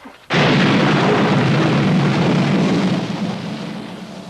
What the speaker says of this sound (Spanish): oyeron un sonido como de trueno